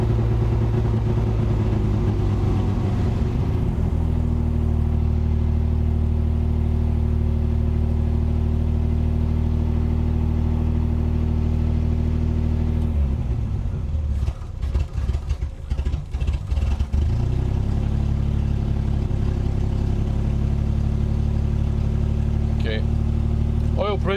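A cold 1974 Triumph TR6 engine held at high RPM runs steadily and close for the whole stretch, its drone dipping and wavering briefly midway before settling back, with no talking.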